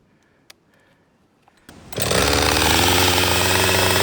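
A Husqvarna 545 chainsaw, heat soaked after cutting, fires up after a quiet stretch with a few faint clicks, then holds a loud, steady high fast idle for the last two seconds.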